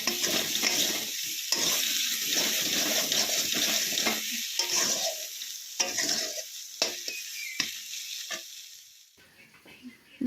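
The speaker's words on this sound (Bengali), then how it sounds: "দেখো নুনটা দিয়ে আরও কিছু সময় কষিয়ে নেব" Spice paste with salt sautéing in a pan for a fish and winter vegetable curry, sizzling in bursts as it is stirred and scraped repeatedly, close by, fading toward the end.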